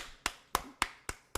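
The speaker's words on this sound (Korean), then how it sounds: "여러분에게 박수 드리겠습니다." Five sharp, separate hand claps ring out in a church during a Sunday service, evenly spaced at a slow, deliberate pace in an otherwise quiet room.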